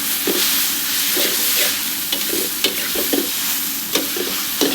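Glass noodles being stir-fried with sliced bird's-eye chilies and cha-om in a hot pan, a loud steady hiss of sizzling with repeated spatula scrapes and tosses every fraction of a second, close up, no speech.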